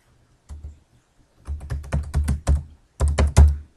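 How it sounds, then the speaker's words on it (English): Typing on a computer keyboard, close clicky keystrokes in two quick runs after a single early tap, brisk and crisp with no voices. "So I just typed in conservation"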